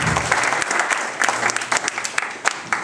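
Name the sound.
applause for the organiser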